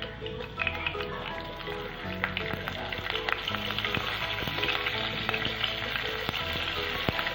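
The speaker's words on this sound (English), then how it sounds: "Let it roast." Cumin seeds and rice roast in a pan, giving a soft steady sizzle with small crackles and pops, fairly quiet and continuous beneath faint background music.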